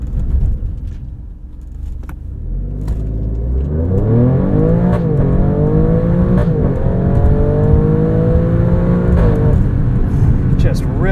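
A 2022 Alfa Romeo Stelvio Quadrifoglio accelerates hard from inside the cabin, its engine climbing in pitch through several quick, rising sweeps with sharp gear shifts between them. The engine note stays loud and close throughout.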